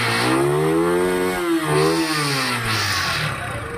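A Daan Hari 186 motorcycle engine with a full-tank carburetor tune idles and revs steadily, its deep harmonic drone rising and falling in pitch through several throttle blips, loud and close with no talk over it.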